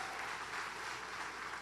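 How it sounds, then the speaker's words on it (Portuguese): Congregation applauding the Lord in church, a sustained wash of many hands clapping, even and dense, heard from within the room. "Então aplauda o Senhor"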